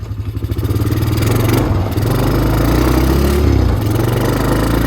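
A 1997 Honda Recon 250 ATV, revived after sitting outside for years, runs loud and close, its engine note rising and falling with a clattery mechanical rumble as it shifts up through the gears.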